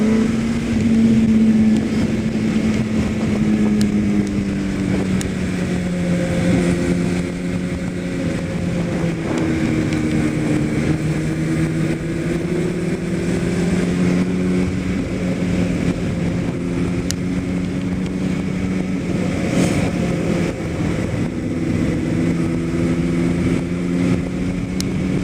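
A scooter rides past with a buzzy engine whose pitch rises and falls as it approaches and moves off, mixed with wind noise across the microphone, no talking.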